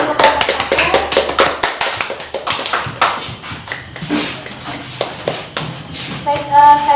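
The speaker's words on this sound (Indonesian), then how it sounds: "kasih aplaus untuk kelompok 1" A classroom group of students applauding group 1, a brief burst of scattered hand claps that thins out, with people talking over and after it.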